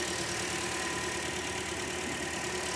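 A Toyota Corolla with a 1ZR engine idles after retiming. The steady, even drone runs unbroken at a moderate, close level, with no voices.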